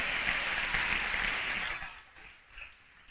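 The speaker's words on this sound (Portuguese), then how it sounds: "Dê um aplauso a Ele." Brief congregation applause in a church service, fairly quiet and dense at first, then tapering off into near silence within about two seconds.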